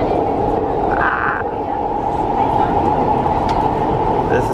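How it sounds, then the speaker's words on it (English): A Singapore MRT metro train rides toward Pasir Ris, giving a loud, steady rumble and wheel hum inside the carriage, with a brief higher tone and faint clatter in the continuous noise. "We're gonna be on this train for maybe 20 minutes."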